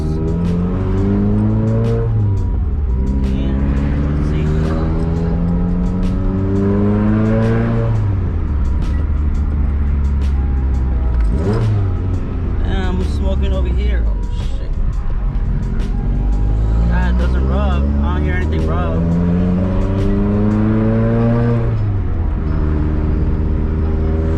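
A loud car engine awaiting a retune, with wastegates, revs up and down through repeated gear changes, rising and falling in pitch as it accelerates hard, close to the microphone.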